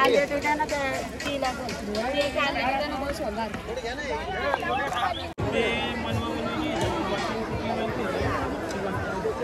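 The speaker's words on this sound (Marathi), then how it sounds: "एकविऱ्यासारखी गर्दी झाली" A crowd at the Kharvali goddess temple gathered for darshan: a steady, busy hubbub of many overlapping voices, close and continuous, with one brief drop partway through.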